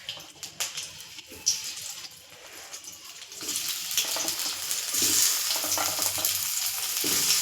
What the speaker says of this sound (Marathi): हे बाय मसाला भरून भरलेले वांगे परतून घेते